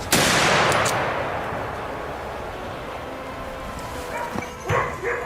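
A single sharp rifle shot fired at a wild boar cracks loudly at the start and fades into a long echo, followed by a dog's barks and yips.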